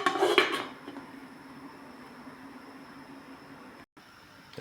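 A lid set onto a cooking pot of fish sinigang, a short clatter of metal at the start, followed by a low steady hiss of the stove.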